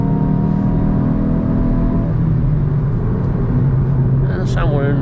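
A Hyundai i20 N with a T-GDI engine in N mode, running in fourth gear, gives a steady loud cabin engine drone with a shifting tone. A person talks over it for most of the clip.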